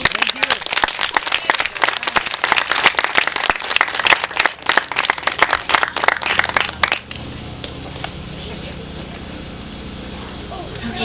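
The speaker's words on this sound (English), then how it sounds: "one more round of applause to the Department of Ag" Dense, loud audience applause at the 2014 Hemp Awards in Boulder, Colorado, filling the first seven seconds, then dropping to a quieter murmur of scattered clapping and room noise.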